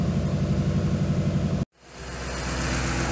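The engine of a donor car for a Shelby Cobra build idles with a steady pulsing rumble, cuts out abruptly for a moment, then restarts and builds back to a smooth running drone.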